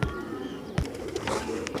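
Pigeons coo at a pigeon market in Multan, a few soft calls and wing flutters close by amid faint background bustle.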